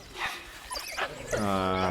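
Game-audio yips, whimpers and short barks from African wild dog pups in Planet Zoo, a few quick calls ending in a sustained whining cry, fairly close.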